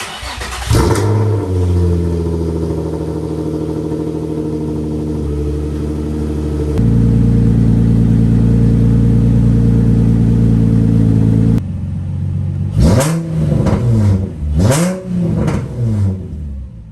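An Infiniti Q50 engine, unstarted for nearly two weeks, cranks and catches, idles with a deep rumble, then revs sharply several times up close.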